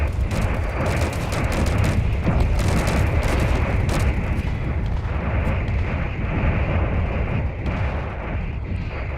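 Dense, continuous barrage of explosive booms and crackles from fireworks in a space-themed video game, loud and close, rolling on without pause with no voices over it.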